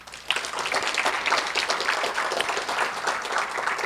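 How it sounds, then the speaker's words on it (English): An audience claps in sustained applause at a talk on tribal policy and history, a dense steady patter of many hands that holds even from start to finish. "And so another round of applause for her"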